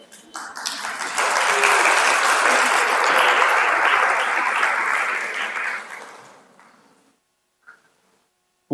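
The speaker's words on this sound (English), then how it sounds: "A big round of applause to all of you." Sustained audience applause at a language-education conference plenary session, loud and steady for about six seconds before fading out to near silence, with a brief sound near the end.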